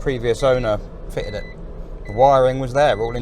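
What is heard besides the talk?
No everyday noises stand out.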